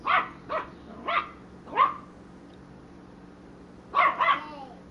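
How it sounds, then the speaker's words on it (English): A dog barks nearby in a run of four sharp barks, falls quiet for a moment, then lets out a quick double bark, with a faint steady hum underneath. "Crazy ass dog."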